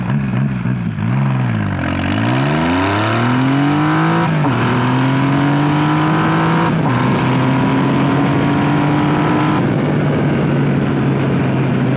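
Triumph Rocket 3 Roadster motorcycle launching hard from a standstill, its big engine revving up through rising gear pulls with brief shift breaks, loud and close throughout.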